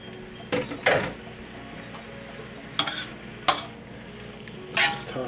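Freshly drained homemade pasta tossed back in a cooking pot, giving a handful of separate clattering scrapes and knocks of metal spaced irregularly, close and fairly loud over quiet room tone.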